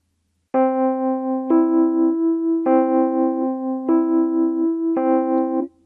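A string of piano notes played so each one rings on into the next, blending together continuously without any break.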